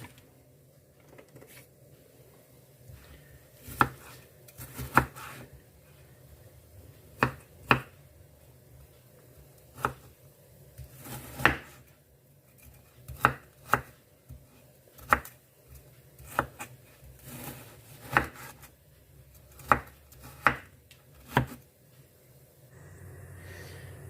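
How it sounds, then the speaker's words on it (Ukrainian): Sharp knife chops mushrooms on a cutting board, about fifteen irregular strikes spaced a second or so apart over a steady low kitchen hum, no talking. "Грибочки я хочу подрібнити, щоб вони були меншими."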